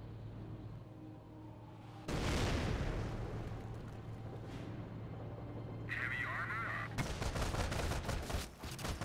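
Soldiers trading gunfire in the World War II strategy game Company of Heroes, with dense bursts of rifle and machine-gun fire and heavy impacts over a steady battlefield rumble, getting louder and busier toward the end.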